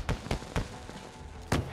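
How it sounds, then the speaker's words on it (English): Fireworks launched in the video game DayZ, a few sharp cracking bursts spaced apart, then a louder pop after a short lull, with faint background noise between. "Dude, shot fireworks."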